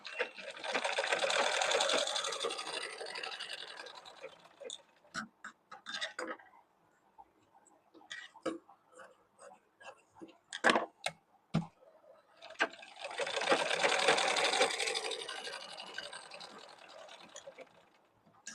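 Sewing machine stitching fabric for a child's pattu langa, two long steady whirring runs of rapid stitching at the start and end, with scattered clicks and handling taps in the quieter middle.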